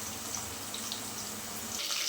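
Water poured off cooked white rice, a steady hiss and splash of draining liquid, quiet and close.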